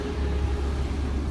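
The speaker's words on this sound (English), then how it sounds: "car idles." A 2004 Honda Civic engine, just after a head gasket job, idles steadily while warming up, with a low, constant rumble, close by and unchanging, with no voices.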